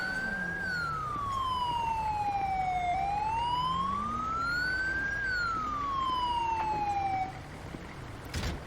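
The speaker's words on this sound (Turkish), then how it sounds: "Ambulans geldi." Ambulance siren in GTA 5 (emergency services mod) wailing up and down in long sweeping cycles, loud and steady over engine rumble, then cutting off near the end.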